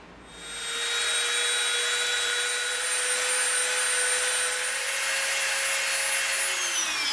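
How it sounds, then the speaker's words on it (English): Dremel rotary tool rounding the edges of EVA foam pieces, a loud, steady high-pitched whine that spins up at the start and holds with slight wavering, heard alone. "we are going to round the edges of these pieces with our Dremel"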